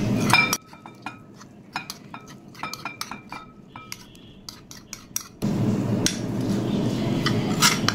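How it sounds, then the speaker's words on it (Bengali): A paste of blended sesame, mustard and coconut is worked together in a kitchen bowl, with close, scattered clinks and scrapes against the dish and a steady soft stirring and rubbing underneath. "এগুলো আমি এখন সব একসাথে মাখাবো।"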